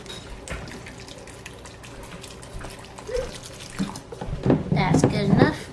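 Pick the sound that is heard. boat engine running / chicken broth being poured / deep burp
chicken broth being poured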